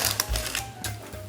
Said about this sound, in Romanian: o să desfac marginea laterală a formei